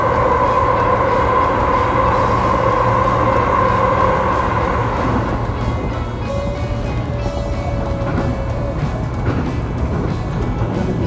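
A JR 205 series train running on the Sagami Line near Aihara, steady loud rumble of wheels and motors throughout, with a faint whine rising in the second half.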